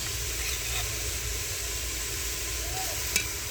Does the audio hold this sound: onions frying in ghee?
yes